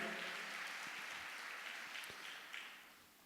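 A Portuguese-speaking church congregation applauds during a worship service, a faint, distant-sounding spread of clapping that slowly tapers off over a few seconds.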